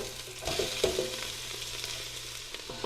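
Onions frying in three tablespoons of olive oil in a big soup pot, a steady close sizzle broken by a few scraping stirs and light clinks of a utensil, no talking.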